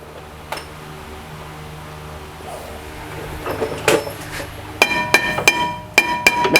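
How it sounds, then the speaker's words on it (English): Metal-on-metal hammer strikes on a rear brake rotor of a 2014 Toyota Highlander, first a lone tap, then a cluster of sharp clanks building toward the end, close and fairly loud against a quiet garage. "We'll get our hammer and we'll start to tap the brake rotor off."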